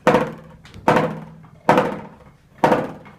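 Four sharp, hollow drum strikes spaced roughly evenly, each ringing briefly then fading, close and fairly loud with no voices.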